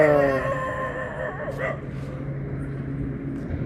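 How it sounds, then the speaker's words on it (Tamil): Several dogs playing outdoors, with short yips and whimpering barks near the start over a steady background hum, while someone talks over the scene. "நாய்கள் விளையாட்ட பார்த்தீங்களா"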